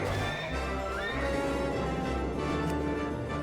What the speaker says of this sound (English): Alright, so we got a horse.